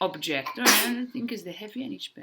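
A child sneezes once, a short loud burst in a classroom lesson setting, surrounded by an adult's steady speech.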